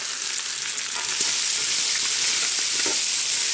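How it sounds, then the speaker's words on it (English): Bacon with onion, carrot and celery fries in a pot for soup, giving a loud, steady sizzle with faint crackles throughout and no talking. "Get those vegetables going, mix it in with the bacon."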